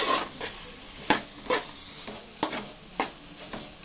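Boiled broiler chicken is mixed into a mango curry in a pan, with a spoon scraping and clinking against the metal in a steady series of close strokes over a faint sizzle, no voices.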